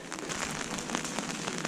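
Steady rain falls on a cobbled street lined with small shops in Coimbra, Portugal, making a dense, even patter with scattered drops and no voices.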